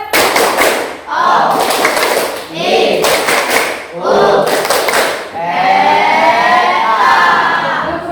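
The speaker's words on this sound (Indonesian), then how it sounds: "ayo kita tepuk dulu" A group of people, likely schoolchildren in a classroom, claps a rhythmic clap chant in loud, sharp bursts that alternate with chanted voices, with a stretch of sung or chanted voices at the end.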